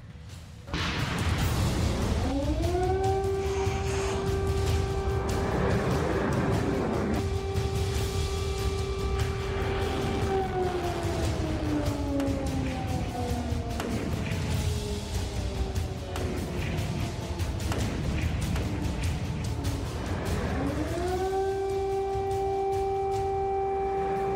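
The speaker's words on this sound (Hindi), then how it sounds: "जंग का जो सायरन इस वक्त यूक्रेन के अंदर सुनाई दे रहा है" A loud wailing air raid siren in Ukraine rises, holds a steady tone, then slowly falls and rises again, sounding continuously over a low rumbling background.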